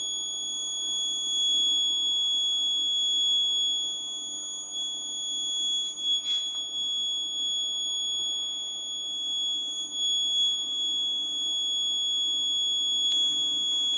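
A continuous high-pitched alarm buzzer from an ESP32-CAM GPS safety alert device sounds steadily throughout, with faint handling noises underneath and no talking.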